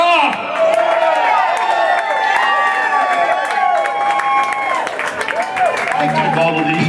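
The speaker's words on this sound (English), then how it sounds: "give a big round of applause for Rick Shaw!" A crowd at a memorial jam session applauds and cheers loudly, with whoops and shouts rising over continuous clapping, and voices calling out throughout the close, lively noise.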